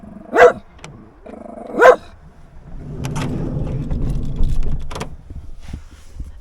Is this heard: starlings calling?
no